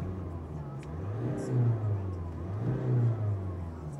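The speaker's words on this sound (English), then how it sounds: "I'll give it a bit of a rev for you." A 2017 Land Rover Discovery Sport engine idles and is revved twice, each rev rising smoothly to a peak and falling back to a low steady idle, heard close and moderately loud.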